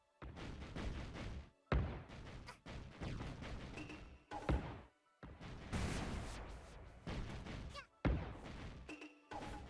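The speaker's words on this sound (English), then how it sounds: "Nope, just death explosion." Death explosions in the video game A Hat in Time: a run of loud, booming broadband bursts that break off abruptly, with several short gaps between blasts and no voices over them.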